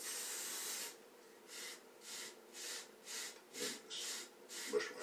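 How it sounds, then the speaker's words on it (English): Hair spray is spritzed onto a brush in a series of about eight short, soft hissing bursts at a steady rhythm, close and quiet. "I could just do this, spray it on the brush."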